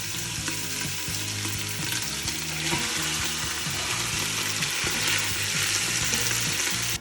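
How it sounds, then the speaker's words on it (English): Beef searing and browning in a hot pot for caldo de res, a loud, dense, continuous sizzle with faint scraping underneath. "You're going to brown it, sear it a little bit"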